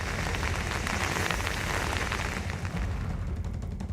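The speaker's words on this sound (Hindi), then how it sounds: "तेज बारिश की वजह से गुरुग्राम के सेक्टर 46 में सड़कों पर पानी भर गया है।" Heavy rain pours down on flooded streets in Gurugram's Sector 46, a dense, continuous hiss of drops hitting surfaces, loud and close throughout, thinning slightly toward the end.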